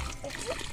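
Water trickles and dribbles steadily from a shower-like stream onto toys being washed in a short, close, continuous burst with no talk.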